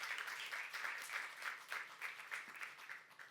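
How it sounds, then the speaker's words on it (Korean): Church congregation applauding during a youth service sermon, a steady wash of many hands clapping together, fairly distant and even throughout with no voices over it. "박수며 하나님께 영광 돌리시기 바랍니다."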